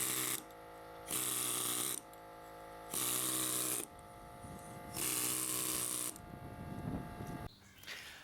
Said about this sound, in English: I decided to use my pneumatic air impact hammer to chisel away some of the